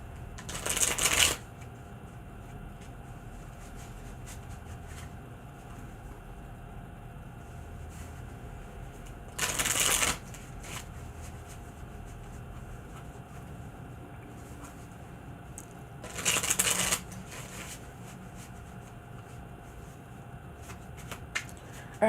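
A deck of tarot-style cards is shuffled in three short, crisp riffling bursts spaced several seconds apart, close by against a quiet room background.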